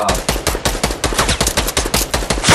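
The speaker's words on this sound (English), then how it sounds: "He's trying to shoot me out right now." Rapid automatic gunfire in the battle royale game Fortnite, a loud, close string of evenly spaced sharp shots in a steady rhythm, alone without talk.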